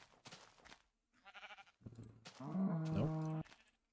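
Minecraft sheep bleat in several short separate calls, the last a longer wavering bleat, close and fairly quiet with brief gaps of silence between them.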